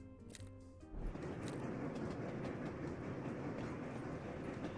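Train running on rails in the video game Sweet Transit, a steady close rolling rumble with faint rhythmic clatter that starts abruptly after a short musical moment and continues evenly.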